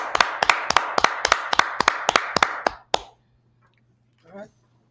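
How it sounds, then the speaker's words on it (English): About ten loud, evenly spaced claps ring out in a steady rhythm over three seconds, like a class clapping together in unison, then stop abruptly, followed by a brief voice. "Clap it up for the class."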